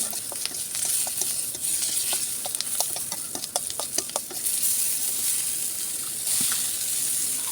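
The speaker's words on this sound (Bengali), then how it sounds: "রসুনটা একটু নেড়ে চেড়ে একটু বাদামি কালার হওয়া অবধি অপেক্ষা করব" Garlic stirred and frying in hot oil in a pan, cooking until brown, for a spicy village-style fish mash; a steady close sizzle with scattered crackles and utensil scrapes, no talk.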